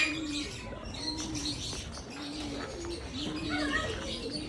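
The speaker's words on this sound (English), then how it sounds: "These are the doves." Doves coo softly in a bird barn, repeating low murmuring calls against a busy background of other birds chirping and faint wing flutters.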